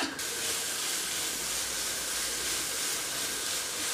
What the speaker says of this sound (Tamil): உப்பு சேர்த்துட்டு இப்போ வந்து ஹை ஃப்ளேமில் வந்து ஜஸ்ட் 1-2 மினிட்ஸ் வரைக்கும் நல்லா வந்து அதை வதக்கிக்கலாம்